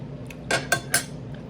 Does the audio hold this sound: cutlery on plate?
yes